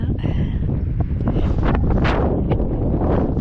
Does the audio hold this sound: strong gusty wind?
yes